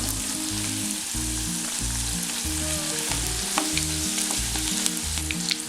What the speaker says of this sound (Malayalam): ഇതൊന്ന് തിരിച്ചും മറിച്ചുമൊക്കെ ഇട്ടിട്ട് ഒന്ന് ഫ്രൈ ചെയ്തെടുക്കണം കേട്ടോ